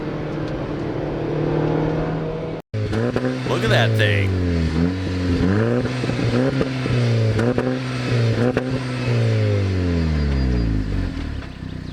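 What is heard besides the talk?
car engine revving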